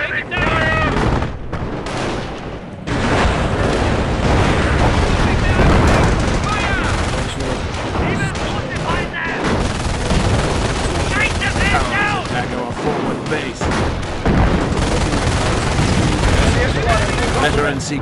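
Battle in the World War II strategy game Company of Heroes, a German assault under heavy fire: dense rifle and machine-gun bursts with heavy booms run throughout, while game voices shout over the clamour.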